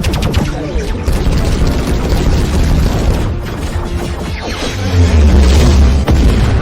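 Animated sci-fi mech battle: a full missile salvo fired from a forward fire position, a dense, continuous barrage of booming blasts and rapid bursts building to heavier explosions, loud throughout with no talk.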